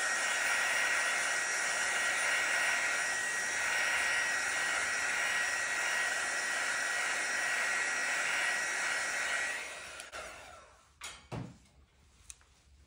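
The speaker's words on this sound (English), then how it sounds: "So we'll just use the heat tool again." Heat tool blowing steadily over wet fluid art acrylic paint in a spiral sink-strainer pour, a loud constant whoosh with a faint whine that cuts off near the end, leaving a few soft clicks and knocks.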